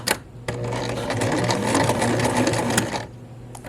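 A sewing machine back-stitches over a seam to repair a hole, a fast, even mechanical whir that starts, runs steadily for a few seconds and stops, close and loud with no voice.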